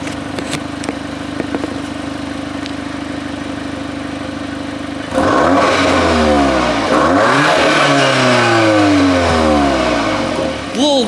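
A 2023 VW Golf R with a catback exhaust sits at idle, then breaks into a series of loud, close free revs, each rising and falling in pitch, after a steady low idle hum.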